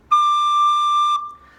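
A recorder plays a single sustained high D, a clean, loud, steady whistle-like tone held for about a second before a softer, lower tail as it ends.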